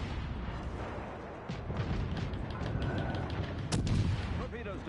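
Naval gun salvos from the cruiser Orion in World of Warships Legends, heard as repeated booming shots over a dense battle din, with one sharper, louder blast near the end.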